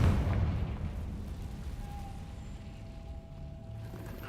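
A Confringo blasting spell explodes in Hogwarts Legacy, a burst at the start that trails into a rumbling, fading decay with a faint tonal whine behind it.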